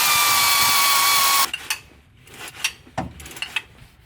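Power tool releasing the bottom transmission bolts on a 2005–2015 Toyota Tacoma, a loud steady whirring burst for about a second and a half, then stops, followed by scattered metallic clicks and knocks.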